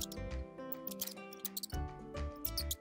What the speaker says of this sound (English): It is a rat.